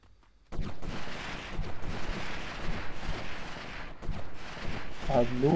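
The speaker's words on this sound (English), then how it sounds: "have no idea who randomly started shooting, but somebody did" Gunfire in the 1998 video game Delta Force, heard as a sudden onset of rumbling shots and booming bursts that continue throughout, loud and dense.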